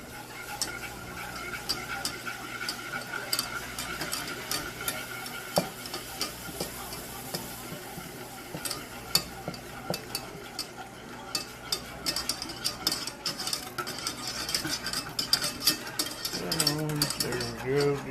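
Milk being stirred into a roux in a pan, with steady soft scraping and spoon-on-pan clinks alongside gentle sizzling throughout, growing busier and louder toward the end.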